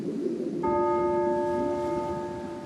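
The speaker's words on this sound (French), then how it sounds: "Il y en a un qui émet un son de cloche." A single bell rung from a boat on a lake strikes once and its clear ringing tone sustains and slowly fades over a low background rumble.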